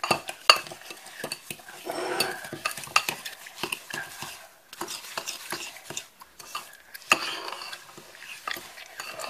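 A whisk or spoon scrapes and clinks in a bowl, mixing egg yolk with sugar for a lemon mousse, in quick irregular strokes at close range.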